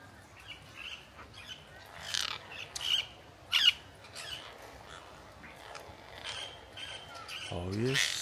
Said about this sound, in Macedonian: Шо има онома папагали.